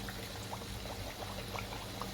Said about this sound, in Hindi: इसके अंदर 1 गिलास पानी डालें।